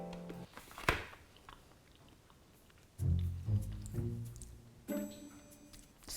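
Chewing and biting into a vegan toasted grilled cheese sandwich, with a sharp crunch early on and then close, soft mastication sounds in uneven bursts; no speech.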